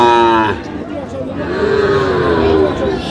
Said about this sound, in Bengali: এখানে কিন্তু ছোট ছোট ষাঁড় বাচ্চা